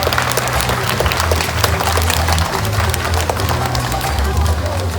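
Audience applauding loudly for two sea lions after a trained target trick at a zoo show, steady dense clapping and crowd noise throughout, with a low hum underneath.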